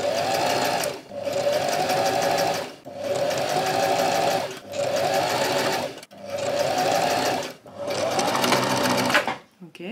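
A sewing machine stitches a trouser seam in close, steady runs, broken into about five bursts by short pauses, then stops near the end.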